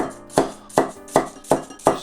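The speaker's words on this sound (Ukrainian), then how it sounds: "А ми перейдемо до нарізання овочів і почнемо з цибулі." A kitchen knife chops an onion on a cutting board while vegetables are prepared for lenten borscht with white mushrooms. Five crisp, evenly spaced cuts sound close and clear, with no talking.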